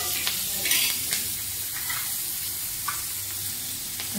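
Chillies frying in hot oil, a constant close crackling hiss with occasional sharper pops and light stirring ticks, no voices.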